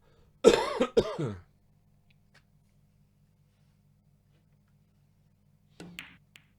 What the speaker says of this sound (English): Cough coming up.